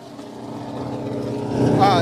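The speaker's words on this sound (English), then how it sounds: "it is fired up and loud here in the NASCAR garage area" NASCAR race car engines run in a busy garage area, a loud steady mechanical roar that swells toward the end, with voices talking over it.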